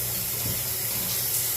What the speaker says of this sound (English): And it's still building up water, so it's telling me that there's a slowdown in this drain somewhere.